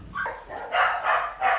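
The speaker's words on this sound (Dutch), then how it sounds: "Lief hondje." A dog barks three times in quick succession, close and fairly loud, each bark short and sharp.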